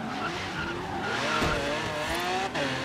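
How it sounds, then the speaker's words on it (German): A car in the racing game Forza Horizon 3 brakes hard and skids, tires squealing loudly and continuously over a roaring engine for a few seconds, with no talking. "Zu spät gebremst"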